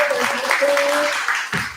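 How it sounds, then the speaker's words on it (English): An audience at a small-business hiring talk gives the speakers a round of applause, a dense steady clatter of many hands that fades near the end. "round of applause for our speakers"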